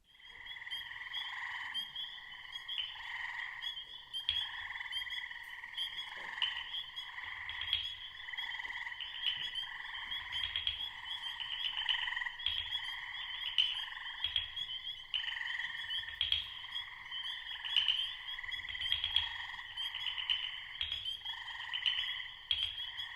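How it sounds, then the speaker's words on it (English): Frogs croaking in a dense chorus, a continuous layered trill of many overlapping calls pulsing steadily and moderately loud, with no talk over it. "Let's hear the frogs."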